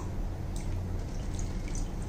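Peeled zucchini (tori) is rinsed under water in a kitchen, with faint splashing and scattered drips over a low background hum and no speech.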